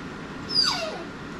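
A dog whimpers eagerly before going out for a walk, one brief high whine that slides downward, fairly faint and indoors.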